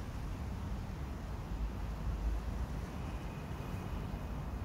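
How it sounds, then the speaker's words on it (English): Strong wind blowing on a stormy typhoon day, a steady loud broadband rush with low rumbling gusts across the whole stretch, no voices. "You just feel blowing wind and watching the views."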